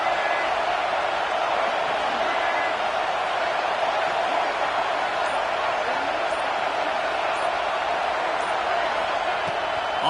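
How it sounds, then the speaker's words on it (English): A large college football stadium crowd at Michigan State vs. Utah fills the space with a continuous, dense roar of voices, steady and unbroken throughout. "This crowd bringing the energy and noise early."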